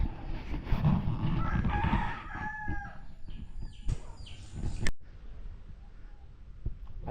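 A rooster crows amid clucking chickens on a farm, with a busy, noisy outdoor background of farmyard sounds, including a mother hen.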